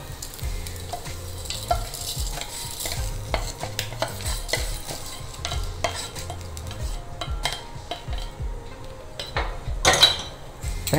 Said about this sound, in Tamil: கொஞ்சம் கருவேப்பிலை போட்டு ஒரு பிரட்டி பரட்டிட்டு ஆஃப் பண்ணிடலாம்